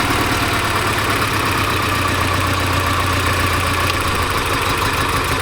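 A Porsche 944 engine idles with a dead cylinder, a steady low, uneven mechanical drone that holds close and continuous throughout with no talking.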